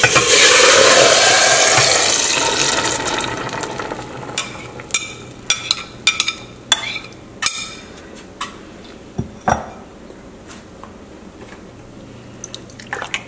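Salsa sizzles loudly as it hits olive oil in a frying pan, the hiss fading into scattered taps and knocks of a spoon stirring it.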